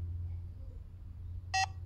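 Security alarm control panel giving a single short, high electronic beep near the end after a low background hum, close and clear.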